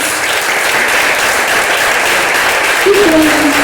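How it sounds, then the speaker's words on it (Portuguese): Sustained applause fills a church service, dense and steady throughout, with a faint voice rising briefly near the end. "Vamos dar a Ele uma salva de palmas."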